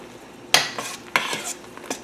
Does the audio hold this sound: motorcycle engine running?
no